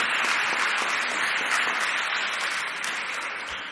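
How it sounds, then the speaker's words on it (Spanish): Church congregation giving a strong round of applause during a Lent announcement, steady dense clapping throughout that fades slightly near the end, with no voices over it. "Lo recibimos con un fuerte aplauso"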